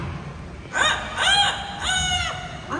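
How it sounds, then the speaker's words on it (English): A rooster crows in a bird park in Singapore, three loud, close, drawn-out calls in quick succession followed by the start of a fourth, over quiet background ambience. "Oh, that's the rooster."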